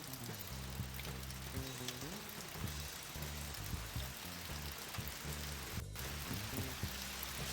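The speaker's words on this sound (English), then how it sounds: "Here comes the rain." Steady hiss of rain falling on surfaces, with a low droning hum running underneath throughout.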